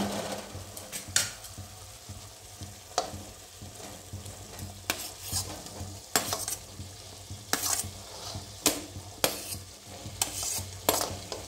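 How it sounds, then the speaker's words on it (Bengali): Potato and jackfruit pieces sizzling and frying in a pan for a Bengali jackfruit curry, with a steady hiss and repeated scraping stirs of a spatula, close and fairly loud, no talk. "এবার আমি আলু এঁচোড়টা দিয়ে দিচ্ছি।"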